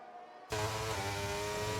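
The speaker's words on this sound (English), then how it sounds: "Quite high revs as we've got going on the straight" A McLaren race car engine in a racing video game, sitting quiet and then bursting into a loud, sustained high-revving roar on a straight at the Austria circuit.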